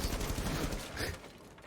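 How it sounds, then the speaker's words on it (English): A dense flurry of overlapping gunshots crackles during a competitive team match in a shooter game, loud and close before tapering off quickly, with no voices. "It's gunfire raining out on both sides."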